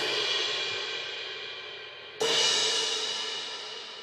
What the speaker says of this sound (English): My two crashes, the paper thin 20-inch prototype, and over here the 18-inch paper thin prototype